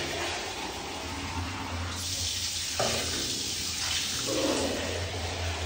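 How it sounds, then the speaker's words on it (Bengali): Tap water runs and splashes steadily in a home bathroom while a toilet is washed down, a continuous broadband gush with a few shifts in flow and no voices. "ওই জলটা চালিয়ে ধুয়ে নে, ট্যাঙ্কের পায়খানার যে জলটা কলের"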